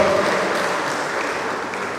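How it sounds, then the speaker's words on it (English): An audience at a staff orientation workshop for newly recruited university staff claps in a steady burst of applause that slowly fades. "Please, a round of applause for him as well."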